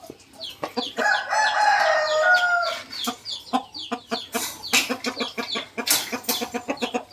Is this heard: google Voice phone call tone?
no